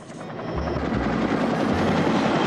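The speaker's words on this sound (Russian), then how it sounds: "Короче, за нами вертолет." An animated cartoon's helicopter sound effect swells in with a dense, rapid rotor chop that grows louder and steadier, a continuous whirring thrum heard alone.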